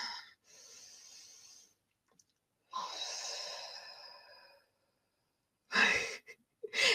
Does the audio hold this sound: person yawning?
yes